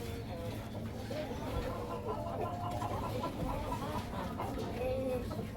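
A flock of laying-stage hens clucks and murmurs continuously nearby, overlapping calls forming a steady farmyard chatter with no clear pauses.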